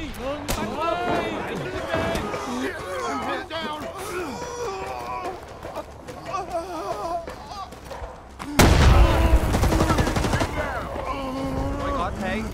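Gunfire in the Rising Storm 2 war game, scattered shots and a sudden loud burst near the end beneath constant shouting voices, close and chaotic.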